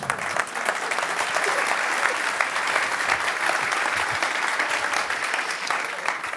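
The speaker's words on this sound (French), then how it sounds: "On peut t'applaudir." An audience applauds a speaker with continuous loud clapping that stays even and full from start to finish.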